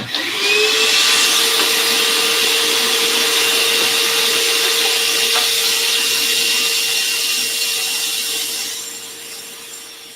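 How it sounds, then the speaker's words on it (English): Vacuum cleaner sucking gunk out of a sewing machine, a loud, steady close-up whine with a sustained tone and airy hiss, rising at the start and dropping off slightly toward the end, with nobody talking. "And it's so much easier with a vacuum."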